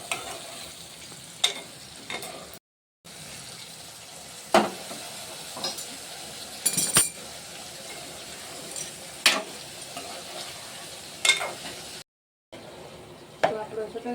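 Garlic chutney tempering cooking slowly in a pan, a soft steady sizzle broken by sharp clicks and scrapes of a spoon stirring, with two brief silent gaps.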